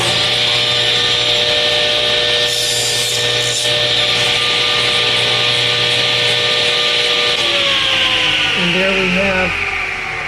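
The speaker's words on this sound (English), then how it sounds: "So this is a safe way to cut very small things on the table saw." A table saw hums loud and steady while cutting a very small piece of wood held down with a stick, its pitch dipping slightly near the end as the blade works through the thin stock.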